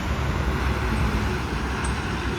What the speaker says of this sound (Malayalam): നമ്മുടെ ബസ് ഉണ്ട് ഓവർടേക്ക് ചെയ്യുന്നത്